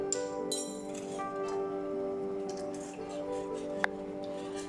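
A spoon stirs a cornflour, sugar and milk mixture in a pan for Spanish-style fried milk, giving soft scattered clinks and light scraping over a steady background hum.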